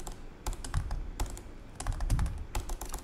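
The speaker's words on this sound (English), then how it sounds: "Let's see if I can type." Close typing on a computer keyboard while writing Android code, a steady run of quick key clicks with a few denser bursts and no speech.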